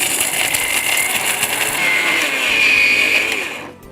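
A mixer grinder whirs loudly as it blends cashews and almonds, a steady high motor whine with grinding texture that shifts pitch slightly before cutting off abruptly at the end.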